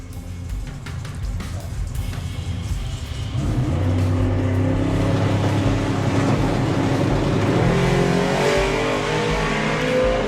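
Drag racing between a Volvo and a Chevy Bel Air in a street eliminator class, engines idling low then roaring into a loud sustained full-throttle run, rising in pitch as the cars accelerate down the strip.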